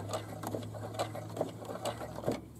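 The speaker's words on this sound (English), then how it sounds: "I'm going to hold on to my threads and stitch a couple of stitches forward." A sewing machine stitches the top hem of a boomerang bag in short close bursts of rapid mechanical needle strokes, with a faint steady motor hum underneath.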